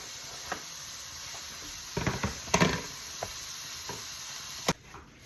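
Garlic sautéing with salt in a pan for lasagna, a constant close sizzle broken by scattered clicks and scrapes of stirring, busiest around the middle, with no voices.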